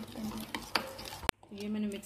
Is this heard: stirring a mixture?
yes